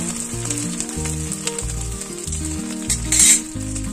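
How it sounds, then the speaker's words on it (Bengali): Fried prawns sizzle loudly in oil in a pan for lau chingri, a steady close hiss broken by rhythmic scraping stirs, with a brief louder spatter near the end and no talking. "দিয়ে দেবো ভেজে রাখা চিংড়ি মাছ, নেড়ে চেড়ে নেব"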